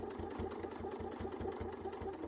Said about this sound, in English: We need to sew down a little ways.